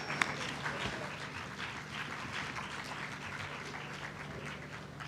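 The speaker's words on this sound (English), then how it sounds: "Ladies and gentlemen, warm round of applause." Conference attendees at the International Conference on World Religions applaud a Best Paper Award winner with a soft, continuous wash of distant clapping and a low background hum.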